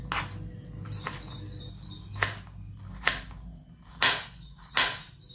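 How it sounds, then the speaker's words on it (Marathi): Sparrows chirp on a calm morning in short, sharp bursts, several quick high calls spaced irregularly over a faint steady background. "त्याच्यावर चिमण्या असे पक्षी बसलेले आहेत आणि त्या पक्ष्यांचा सुमधुर आवाज असा कानावर येत आहे"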